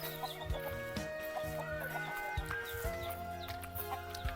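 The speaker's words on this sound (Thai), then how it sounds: "โอ้มีไก่ต่อนำ" Chickens cluck nearby in a steady, overlapping chatter that continues through the whole stretch, with a faint tonal hum beneath.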